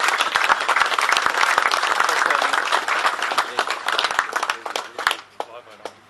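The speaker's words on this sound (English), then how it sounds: "So if you can all please give Louis a hand of applause for his part." An audience at a carp angling championship prize giving applauds loudly in a dense patter of clapping, with a few voices mixed in, thinning out toward the end.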